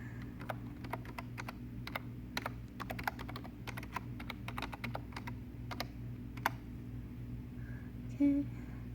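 Someone types a login password on a computer keyboard, quiet clicky keystrokes coming in quick irregular bursts close by, with a faint hum behind and a brief mouse-like click near the end.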